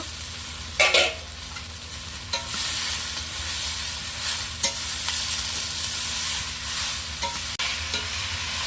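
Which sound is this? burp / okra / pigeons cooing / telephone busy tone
okra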